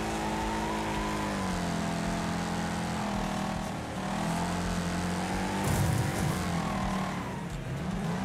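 Car engine in the Wreckfest racing video game roars continuously with revving pitch sweeps and a brief louder burst near the end, steady and close throughout.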